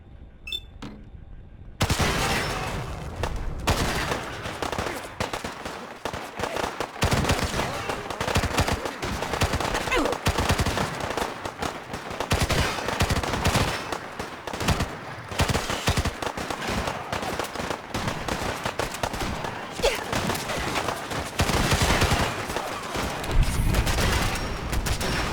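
Dense, sustained gunfire from Fallout 4 combat against hired guards and robots, with rapid automatic bursts and overlapping shots rolling on nearly nonstop for about 23 seconds after a brief quiet opening.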